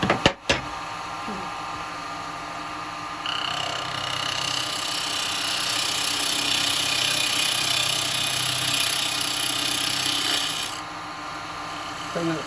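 A spindle gouge cuts into a spinning wood blank on a lathe, a steady, close, hissing scrape that swells in the middle and drops away near the end, with a couple of knocks at the start and no talking.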